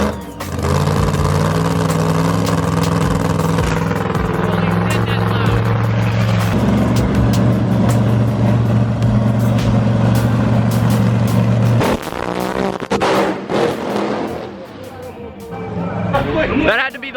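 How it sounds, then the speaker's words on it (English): A very loud stock car, a Camaro, makes a drag strip pass: a heavy, rumbling engine roar with steady low tones that builds, then revs and fades into rough, crackling bursts near the end. "That stock car was the loudest thing ever."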